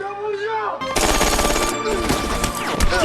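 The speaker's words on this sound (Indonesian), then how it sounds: "mereka berdua naik ke atas gedung, menembaki tentara Korut yang berada di bawah." Dense battle gunfire from a war film scene in which soldiers fire down from a building rooftop, rapid overlapping bursts and impacts breaking in abruptly after a quieter opening and staying loud.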